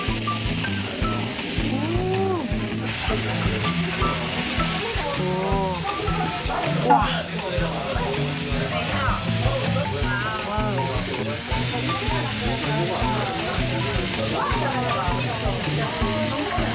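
Beef intestines sizzle and spit fat on a grill at a Seoul restaurant, a steady crackling fry that runs the whole time under lively chatter from several people.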